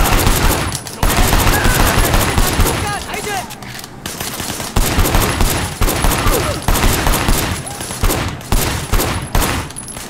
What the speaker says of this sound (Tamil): Fire using blind shot.